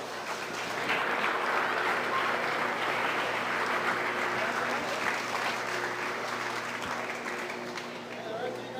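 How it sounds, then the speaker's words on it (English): Audience at a beef cattle show breaks into steady, sustained applause for a grand champion market steer, a dense wash of clapping that holds for several seconds with voices mixed in. "Give him a round of applause."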